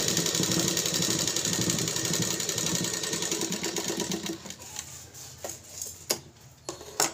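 A sewing machine runs a stitch down the middle of folded fabric during a tailoring lesson, with a close, steady mechanical whir and ticking that stops partway through, followed by a few scattered knocks and clicks.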